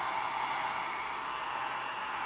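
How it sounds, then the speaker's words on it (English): A hair dryer blows warm air over an airbrushed acrylic clear coat on a model kit, a constant close, loud, broadband whoosh with no breaks and no talking. "you take a hair dryer, okay, and you go in there"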